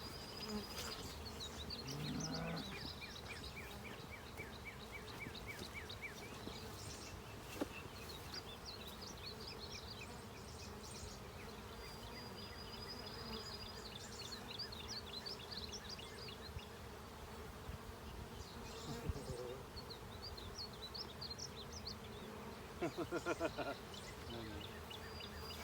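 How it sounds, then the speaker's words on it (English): Honeybees gathering beneath a Russian cedar tree during a swarm, a steady dense buzzing drone of many insects close by, continuous throughout with occasional louder fly-bys, no talk. "there's some bees that are gathering up underneath that Russian cyan"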